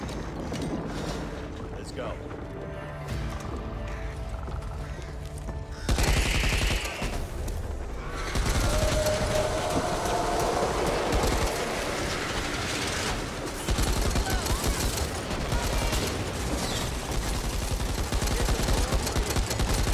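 Sustained machine-gun fire rattles through a blood-tunnel level of the zombie shooter Back 4 Blood, dense, loud bursts of shots layered with mechanical clatter and game noise over about twenty seconds.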